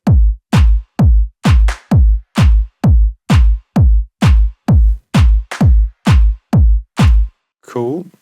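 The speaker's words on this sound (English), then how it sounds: "Then I've got this groove clap. So this is just adding some groove," Groove clap in a minimal deep tech track: a dry, punchy clap repeating in a steady, slightly swung rhythm, loud and alone, with a brief tonal blip at the very end.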